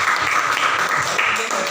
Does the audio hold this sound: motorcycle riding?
no